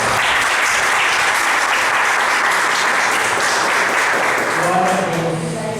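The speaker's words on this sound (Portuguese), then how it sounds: "Uma salva de palmas para o Senhor." A church congregation breaks into sustained applause, a loud, continuous roar of clapping that holds steady before a voice begins speaking over its fading tail.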